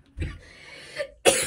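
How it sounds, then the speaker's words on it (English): A person coughs twice, a short muffled cough followed about a second later by a sharper, louder one, close up in a quiet indoor room. "I don't know why I'm coughing."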